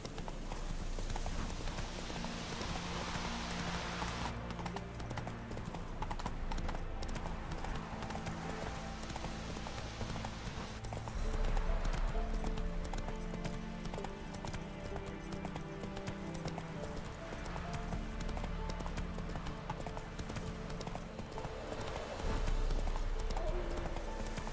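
Horse galloping in The Witcher 3 across the open countryside of Velen, rapid rhythmic hoofbeats drumming continuously and close, with occasional surges and a brief snort, set against an ambient game soundtrack.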